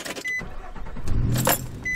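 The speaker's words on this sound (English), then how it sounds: "Right now I will start the car just to show" A Nissan Xterra/Frontier second-generation 4WD engine cranks and catches, then settles toward idle, close up with faint clicks and key jangle and no talking.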